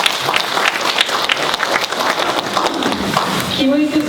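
Audience applause after a presentation at a forum on walking and welfare: a steady, dense round of clapping from a seated crowd, with a voice speaking near the end.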